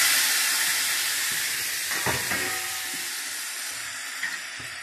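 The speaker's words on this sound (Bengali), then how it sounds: "এবার জল দিয়ে দেবো আন্দাজ মতো।" Water hits a hot pan of tomato paste, letting out a loud, steady broadband hiss and sizzle that fades gradually over several seconds, with a few faint clinks underneath.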